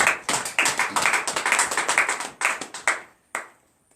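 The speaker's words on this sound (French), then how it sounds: "Donnez l'acclamation à l'Éternel." A church congregation at a morning prayer service claps in acclamation, sharp, close handclaps in a brisk, fairly regular rhythm that thins out and stops with one last clap.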